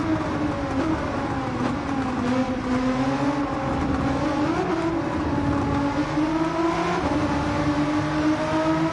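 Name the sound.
Nissan R35 GT-R engine racing in video game Gran Turismo 7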